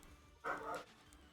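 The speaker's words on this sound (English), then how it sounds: "If you can hear my dog barking" A single short bark from a pet dog indoors, muffled and somewhat distant, with quiet room noise before and after.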